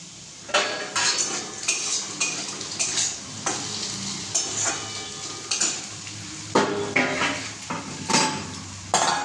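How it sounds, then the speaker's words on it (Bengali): Mung dal frying in a pan, with a soft sizzle underneath repeated sharp scrapes and metallic clinks of a utensil stirring against the pan, close and fairly loud, irregular in rhythm and without any talking. "আর এখানটা আমি ডালটা একটু ভেজে নেব, মুগ ডাল লাউ দিয়ে হবে"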